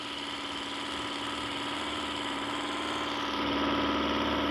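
A boat engine in a Roblox video game drones steadily and grows slightly louder as it accelerates, a continuous buzzing hum with no talk over it.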